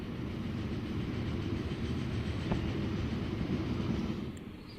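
Trains in the video game Transport Fever roll along rails, a steady low rumbling drone with faint clatter that holds evenly, then eases slightly near the end, with no voices.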